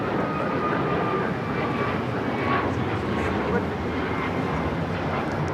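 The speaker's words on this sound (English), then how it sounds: "2113 taking off to Chicago on the 737 MAX 9" A United Airlines Boeing 737 MAX 9 takes off from LAX bound for Chicago, its engines producing a steady, loud jet roar that holds evenly throughout.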